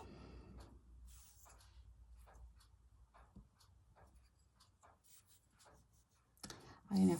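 A pencil scratches across paper in short strokes, sketching half of a symmetrical vase template for a scrap stitching project, close and quiet with soft talk and rustles around it, ending in a louder thump.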